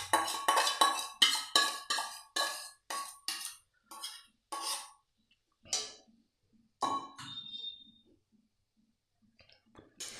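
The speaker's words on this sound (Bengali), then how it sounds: "একটু ভালো করে নাড়িয়ে নিলাম" Red amaranth greens are stirred in a cooking pan, a spoon scraping and clinking against the metal in a series of quick strokes that thin out into scattered taps and near silence.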